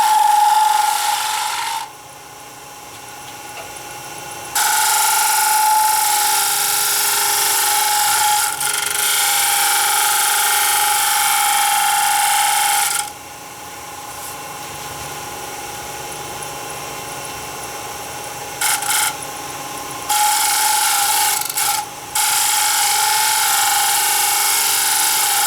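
A wood lathe spins a workpiece held with a tailstock steady while a tool cuts a bead, giving loud raspy scraping bursts over a continuous whirring drone, broken by brief quieter pauses.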